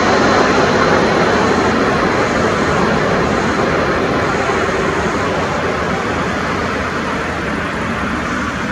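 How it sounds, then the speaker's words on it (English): Air Baltic Airbus A220 landing in strong crosswinds, a loud, steady broadband roar of jet engines and rushing wind that holds throughout, with no talking. "This Air Baltic Airbus A220 landed sideways in strong crosswinds."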